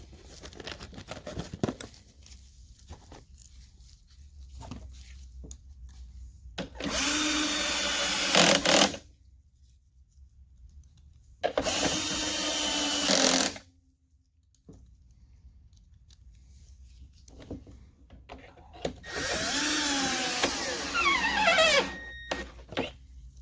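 Small power driver whirring out little plastic screws from a BR-600 leaf blower during a short-block replacement, in three separate bursts with quiet handling noise between them.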